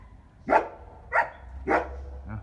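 A dog barks three times in sharp, evenly spaced bursts, with a softer fourth yelp at the end over a low background hum; the bursts are fairly close and loud.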